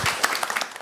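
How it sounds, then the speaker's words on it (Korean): Audience at a youth policy forum clapping to welcome a speaker, a brief burst of steady, dense applause in a hall with no talking. "큰 박수로 맞이해 주시기 바랍니다."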